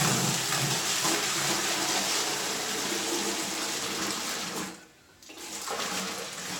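Water pours steadily into the water baffle of a dust collector that has soap added, a loud, close, continuous splashing rush that stops briefly and then starts again.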